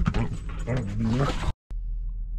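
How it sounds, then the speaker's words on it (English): Excited dogs barking and whining in a house, a quick burst of rising, yelping calls up close, then a brief cutoff before quieter background noise. "the dogs are going crazy right now"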